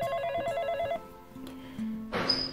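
A telephone rings indoors in a comedy crime series, a bright electronic trill repeating for about a second, then a lower tone and a sharp high beep, loud and alone.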